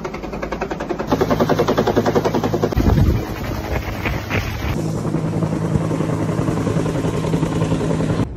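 A helicopter hovering over a cherry orchard chops loudly and steadily overhead, a dense pulsing roar that holds throughout with a brief low thump partway through.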